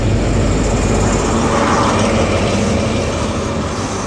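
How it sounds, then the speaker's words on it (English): A Great Western Railway HST, power car 43186, pulls slowly into a short station platform on a Gloucester service, giving a steady loud rumble and rolling noise that holds throughout without a break. "now arriving is this strange Great Western Railway service to London Gloucester"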